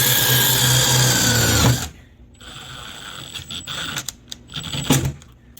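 A power drill bores through 16 gauge sheet metal on a car door, a loud steady whine for nearly two seconds that cuts off, followed by scattered clanks and rattles of metal handling.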